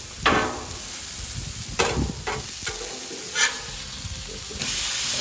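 Prime NY strip steak sears on a Blackstone griddle, with a constant loud sizzle and hiss, interrupted by several sharp bursts as the meat is pressed or moved.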